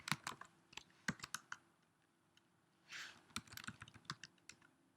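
Keystrokes on a computer keyboard as a Linux command is typed, a quick irregular run of sharp close clicks with a short burst near the middle, no talking.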